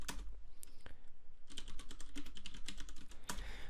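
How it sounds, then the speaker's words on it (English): A Docker command is typed on a computer keyboard: a rapid run of soft, close keystroke clicks with a brief pause near the start. "If I now type in Docker images"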